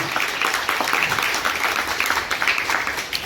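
Many young participants in a workshop game clapping louder, a thick sustained roar of hand claps with slight swells in intensity throughout.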